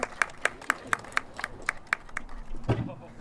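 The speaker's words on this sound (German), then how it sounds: "dem Lukas einen kräftigen Applaus geben" Spectators clap at an eagle show at Landskron Castle in Carinthia, Austria, in a steady rhythmic beat of sharp, evenly spaced claps that stops before a brief voice at the end.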